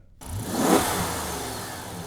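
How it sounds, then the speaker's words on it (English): A car engine catches and roars, swelling into a strong rev before settling into a steady rumble, loud and close with no talking. "Right, keys in the ignition"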